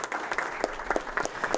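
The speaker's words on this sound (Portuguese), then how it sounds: "Uma salva de palmas, por gentileza." Audience applause at a Brazilian seminar: steady, dense clapping from a crowd indoors, continuous and moderately loud throughout, with no voices over it.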